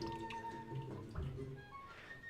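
Water poured onto clay while throwing pottery on a wheel makes soft, faint wet drips and squishes in a quiet room.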